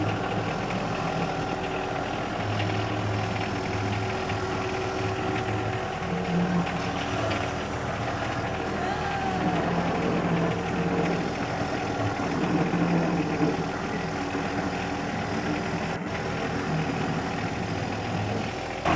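A tractor engine idling steadily, heard from inside its original enclosed cab in snowy weather, a constant low rumble with a faint hum that holds even for the whole stretch.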